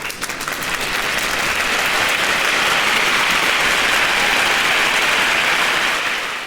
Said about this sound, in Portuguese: Se você entendeu, aplauda a Jesus